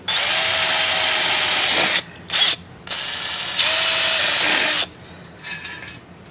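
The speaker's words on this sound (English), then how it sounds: "I'm gonna drill all these out." A power drill whines loudly drilling out spot welds on a VW Bus Westfalia during rust repair, in several bursts of a second or two, stopping and restarting with short pauses between runs.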